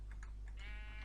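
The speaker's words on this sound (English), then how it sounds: "Sorry sheep, I think hitting you there" A single short sheep bleat from Minecraft, faint and brief over a low steady hum.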